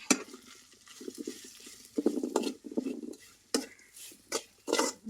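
A spoon stirs a pickle mixture with turmeric and salt in a pan, making soft, uneven scraping and patting strokes in short bursts, fairly quiet and close, with a light sizzle underneath.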